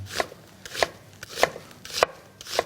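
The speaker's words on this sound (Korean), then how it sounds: "너무 또 얇게는 안 써네요" A knife slices through onion on a cutting board for a Korean stir-fry of webfoot octopus and pork belly: five crisp, evenly spaced chops, close and clear, with no talk.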